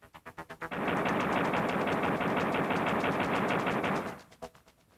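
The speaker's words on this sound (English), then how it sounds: "Then return to the game and fire some bullets." Duke's pistol firing in a Nintendo 64 game: a few quick separate shots, then a dense unbroken burst of rapid gunfire lasting about three seconds, trailing off into several more spaced shots.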